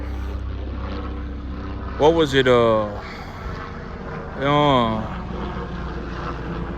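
A helicopter passes overhead as a low, steady rotor drone under someone speaking, continuous and fairly distant throughout.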